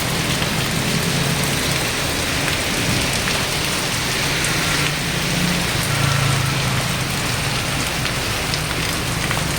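Steady, heavy rain pours down, drumming continuously on a surface with no break and no voices.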